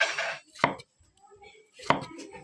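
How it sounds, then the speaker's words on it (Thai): Two sharp knife chops strike a cutting board while thinly slicing bitter gourd, spaced about a second apart in a quiet kitchen with faint background sounds between. "นี่เราจะหั่นมะระอีกเนาะซอยบางๆมะระ"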